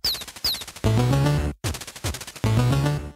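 Rapid gunfire from the NES game Fester's Quest, chiptune shots in quick rattling bursts, two long sustained volleys separated by short pauses, loud and up front with no talk.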